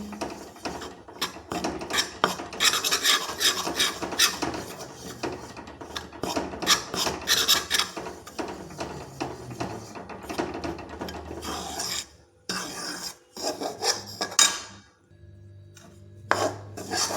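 Flour roasts in a pan for khoya pinni while a spoon scrapes and rasps it in quick, uneven strokes. The sound is close and busy, with brief pauses and a short quiet stretch near the end.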